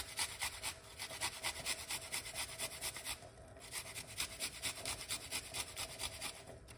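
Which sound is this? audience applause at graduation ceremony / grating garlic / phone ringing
grating garlic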